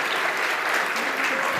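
Brisk audience applause at a university game programming lab's final presentations, dense clapping filling the whole short stretch, fairly loud with no talking.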